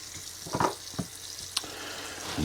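Water in an RV bathroom gushes and spatters in short irregular bursts, with a steady hiss of flow under a fairly close, moderately loud rush.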